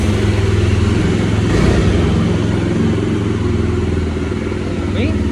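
A new motorcycle running close by, its exhaust note a steady, loud, deep rumble that holds throughout with slight swells, alone without clear talk.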